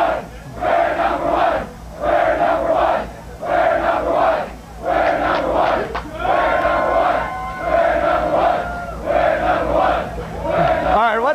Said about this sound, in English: they are partying in this parking lot like you would not believe